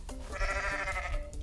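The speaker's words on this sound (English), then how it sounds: "Is this like the sacrificial goat noise?" A goat in the video game Goat Simulator lets out a single drawn-out, wavering bleat, close and moderately loud, heard alone for about a second.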